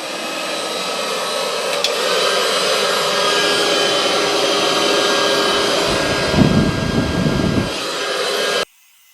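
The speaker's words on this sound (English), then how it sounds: "it may be helpful to use a heat gun just to warm that rubber up a little bit" A heat gun blows steadily to warm the stiff rubber of an electric scooter tire. The loud, even rushing roar holds for about eight seconds, with brief handling noise near the end, then cuts off abruptly.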